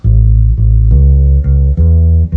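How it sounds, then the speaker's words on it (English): A deep electric bass plays a steady walking blues line of root, third and fifth, sustained notes stepping to the next with no pause, loud and alone. "Probably the most popular blues bass line is definitely the root, the third, and the fifth"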